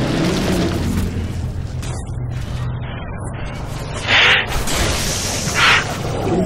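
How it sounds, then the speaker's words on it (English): Explosions and heavy gunfire from an enemy turret up top in Halo 3 co-op on Legendary, a continuous loud rumbling barrage with two brief bursts standing out near the end. "That thing up top is shooting me down."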